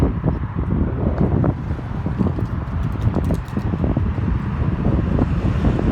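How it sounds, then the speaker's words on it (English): Strong wind buffets the microphone with constant low rumbling gusts and crackles, with no voices, just steady blustery roar throughout. "And I apologize for the wind."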